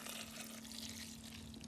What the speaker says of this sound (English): And into this dish, I'm going to pour some red wine